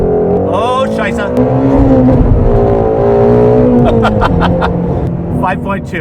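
A Lund-tuned 2018 Ford Mustang GT350 accelerates hard with traction loss, its loud engine note rising and falling in pitch as it revs, close and prominent, with a voice speaking over it.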